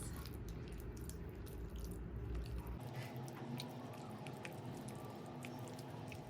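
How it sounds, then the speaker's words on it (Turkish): Cookie dough ingredients are kneaded and mixed by hand in a bowl to soften them. Soft, wet squishing and pressing noises repeat close up at a faint level, with no speech over them. "Koyduğumuz bütün malzemeleri şöyle biraz e, yumuşaması için tekrar elimizle karıştırıyoruz"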